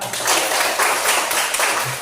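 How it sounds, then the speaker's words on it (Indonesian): A school class claps hands together in a dense, continuous burst, loud and close, with no speech over it. "Ya, luar biasa, tepuk tangan."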